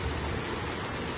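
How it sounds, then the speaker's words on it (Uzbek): Steady rain falling in Madagascar, a dense, even hiss of drops that holds unchanged throughout, with no voices. "Madagaskarda yomg'ir boshlandi."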